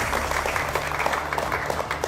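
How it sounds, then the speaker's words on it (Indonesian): Students in the studio audience of a TV political talk show applaud, producing a steady, fairly loud stretch of clapping with a low hum underneath. "Luar biasa tepuk tangan."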